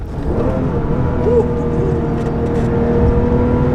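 A Porsche 997.1 GT3 RS with a manual gearbox pulls away on the road, its engine droning steadily and building slightly, heard from close by without speech.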